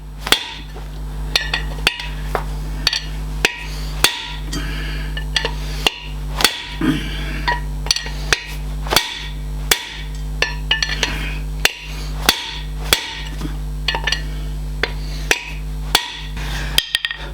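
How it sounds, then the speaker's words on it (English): Repeated sharp hammer blows ring out on a steel drift, knocking a hub bearing track out of a Foden S80 truck hub in a workshop, each metallic clink evenly spaced over a low steady hum. "We're going to knock the bearing track out, and that will push out that hub seal arrangement"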